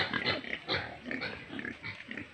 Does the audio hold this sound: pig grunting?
yes